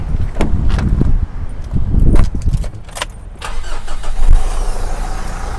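A 2012 Mitsubishi Pajero 2.5 GT diesel cranking and starting up nearby, with clicks and rattles around the ignition before the engine catches and settles into a rough, steady idle.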